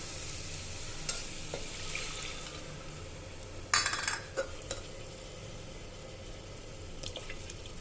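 Water being added to whole masoor lentils cooking in a pan: a brief splashing burst mid-way over steady soft sizzling, followed by a few light clinks and stirring sounds, close up.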